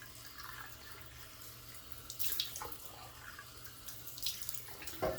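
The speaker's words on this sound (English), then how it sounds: "Now I'm going to rinse off." Tap water runs into a sink while someone rinses their face with splashes of cold water after shaving, a steady faint flow broken by a few louder splashes.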